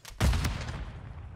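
One loud shot or short burst rings out in Call of Duty competitive play and trails off into a booming tail, heard alone and up close.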